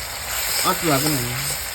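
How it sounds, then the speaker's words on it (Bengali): Onions and spices with Kashmiri chili powder fry in a pan, giving a steady close sizzle while someone talks briefly over it. "এই দেখো লঙ্কার গুঁড়োটা দিয়ে দেবো, কাশ্মীরি লঙ্কার গুঁড়ো।"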